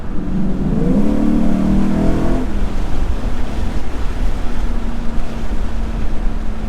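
Induction noise from a Lexus IS 500 while driving, a loud revving engine note that rises in pitch and then settles into a steady drone over road and wind noise.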